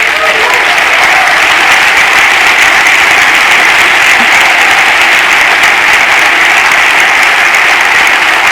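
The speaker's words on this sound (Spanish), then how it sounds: "Dale un aplauso a Dios." A church congregation applauds at a sermon, dense loud clapping from a large crowd that stays steady and unbroken from start to finish.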